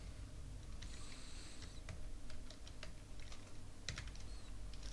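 Typing on a computer keyboard while editing page content in the e107 website system: steady clusters of light key clicks with brief pauses, close and fairly quiet, with no speech.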